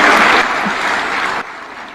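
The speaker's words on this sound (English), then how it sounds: "Another round for applause to Irungu Kanata." Sustained applause for Irungu Kanata at a devolution conference, loud dense clapping that drops off abruptly to a softer patter near the end.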